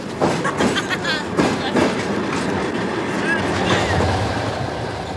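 A train rumbles steadily along the rails through Belarus with a rhythmic clatter and occasional high metallic squeals, loud and continuous throughout.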